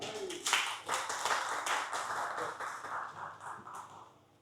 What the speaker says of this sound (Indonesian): Tepuk tangan sekali lagi dong teman-teman.